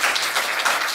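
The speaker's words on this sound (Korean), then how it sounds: "우리 박수 한번 돌아서서 격려의 박수" Church congregation clapping together in encouragement for a young man leaving for military service, a dense steady patter of many hands filling the room for a brief moment.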